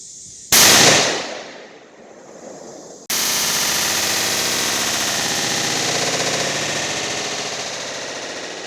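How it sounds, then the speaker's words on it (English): A 7mm Remington Magnum rifle fires one loud, close shot during load development. A bright blast follows, and after a quieter tail a second sharp crack gives way to a long, steady roar of noise that lasts to the end. "so shot number 2 for the last string of shots, which is 68 grains"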